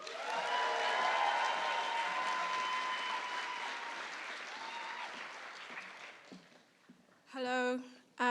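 A large audience at the National Book Awards finalist reading applauds an author, with dense clapping that starts loud and slowly fades, then a voice begins speaking at the end.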